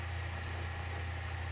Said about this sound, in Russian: И звук движка здесь свой.